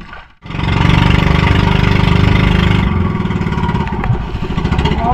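Several boat motors run loudly and steadily at close range while skipjack tuna are being fished, a continuous droning roar that starts abruptly after a brief quiet moment.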